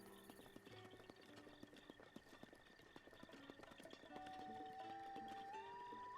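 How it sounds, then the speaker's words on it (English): Hoofbeats of a horse galloping in from a whistle call in The Legend of Zelda: Breath of the Wild, a steady clip-clop rhythm over game music and ambience, growing slightly louder toward the end. "I can whistle and then my horse will come running."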